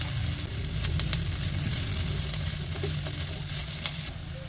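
Tofu cubes fry in oil previously used to fry garlic, giving a steady, close sizzle with faint crackles and occasional stirring clicks throughout, and no talking.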